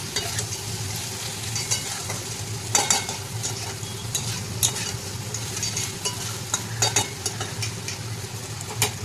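Ash gourd and potato curry with a pinch of sugar being stirred in a hot pan, a steady close sizzle with regular scraping and clinking spatula strokes, no voices.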